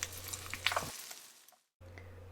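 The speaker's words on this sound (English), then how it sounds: "Now let us stir fry the onion as well till it becomes slightly brownish in color." Onion and poha stir-fried in a pan over a low flame, giving a soft crackling sizzle with a few scraping stirs. The sound fades into near silence, then a steady low hum of the stove returns.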